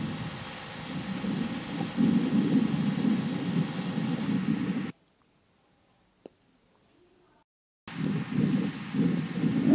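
Steady hiss of heavy rain in a bus simulator video game with low rumbling, cutting out abruptly to near silence for a few seconds, then resuming just as loud.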